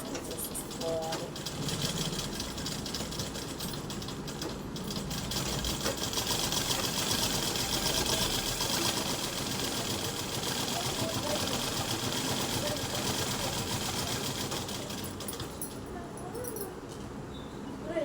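A sewing machine runs steadily, stitching a garment along a marked measurement line. The motor keeps up a continuous, fairly loud whir through the whole stretch with a slight drop near the end. Voices come and go in the background.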